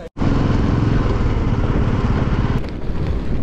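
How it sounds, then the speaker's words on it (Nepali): Around twenty motorcycles riding together in a group on a road, their engines roaring loud and steady at close range for the whole stretch with only a brief dip near the end and no voices. "अराउन्ड 20 वटा रहेछ बाइकहरु टोटल"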